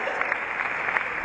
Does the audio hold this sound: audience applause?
yes